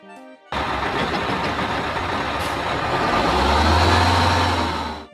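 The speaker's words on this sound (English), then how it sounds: "What sound does a bus make?" A bus engine starts up and runs loudly and steadily, its rumble building toward the end, with a sharp hiss of air brakes near the middle.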